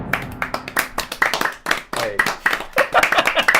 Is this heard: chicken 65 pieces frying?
no